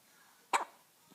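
A single sharp hiccup from a one-week-old baby girl, brief and close, standing alone in an otherwise quiet room.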